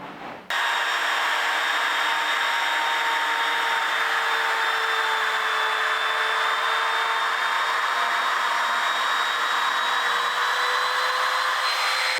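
A power tool cuts a groove into a wooden cutting board, a loud, constant high-pitched whine that starts abruptly and holds steady for the whole stretch, close up and uninterrupted, with no voices.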